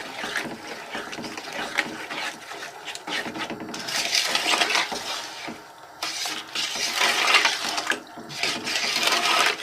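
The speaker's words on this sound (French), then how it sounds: "Ah, gros bouillon." Cucumber jam boils hard in a pot, giving a steady, loud bubbling hiss with surging swells and occasional spoon scrapes against the pot, close and continuous.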